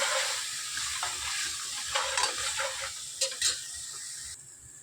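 Masala of spices frying in a pan, a soft continuous sizzle with a few louder crackles and stirring scrapes, close and fairly quiet, no talking.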